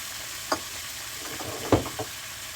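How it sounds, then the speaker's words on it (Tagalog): Apple cider vinegar poured into chicken liver adobo with potatoes frying in a pan, a steady sizzle broken by a few brief stirring clatters and splashes, with no talking. "Ngayon pala ay maglagay na tayo ng suka."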